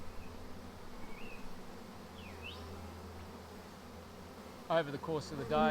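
A honey bee swarm hums steadily as it settles into a hive box below a high tree, a soft continuous droning buzz with occasional louder bees passing close, and a voice speaks over it at the end.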